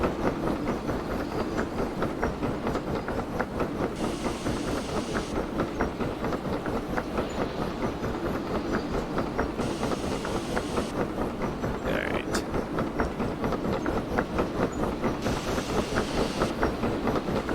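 A steam locomotive rolls steadily on rails in the VR game Derail Valley, with continuous rhythmic clickety-clack and rumble, periodic hissing bursts of steam, and no talk over the sound.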